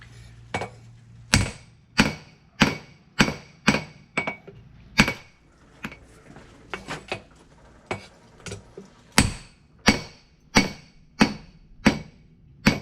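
Hammer blows forging a steel patch knife blank, a steady series of sharp metallic strikes in a regular rhythm, some lighter taps in the middle, close and loud with no talk.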